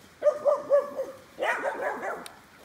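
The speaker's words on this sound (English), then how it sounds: "That's my dogs. That's my babies." A few short dog barks and yips at close range, followed by a rougher, busier stretch of barking that tapers off.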